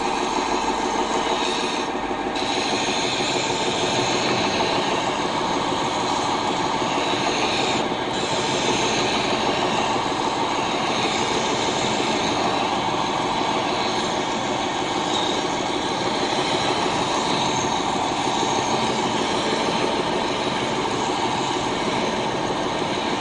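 Sanding machine shaping a wooden spaghetti measure with sandpaper, a loud continuous grinding roar that holds steady throughout with no talk.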